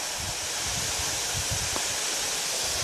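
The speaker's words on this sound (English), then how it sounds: "I don't know if you can hear the waterfall hitting the rock" A creek waterfall pours onto rock, a steady broadband hiss of rushing water filling the scene without pause.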